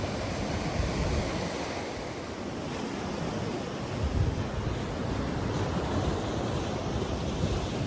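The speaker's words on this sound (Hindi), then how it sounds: "लहरों का जोश देखें जनाब, बड़ी तेज़ी से लहरें साहिल की तरफ आ रही हैं जी।" Sea waves surging fast toward the shore at North Berwick harbour in Scotland, a continuous broad wash of surf with swelling crests, mixed with gusty wind buffeting the microphone and no voices.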